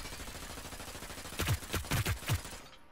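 Short bursts of submachine gun fire in the Hyper Scape shooter game, four quick volleys packed into about a second, crisp and moderately loud over a steady game backdrop, with no one talking.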